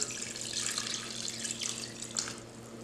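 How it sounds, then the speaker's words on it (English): Water pours steadily into a pot holding chicken pieces, bay leaves and thyme for homemade stock, a soft continuous splashing stream heard alone and fairly quiet, with a faint low hum beneath. "we're going to add the water"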